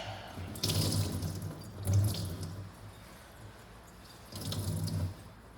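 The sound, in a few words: wringing water out of a wet carpet cleaning bonnet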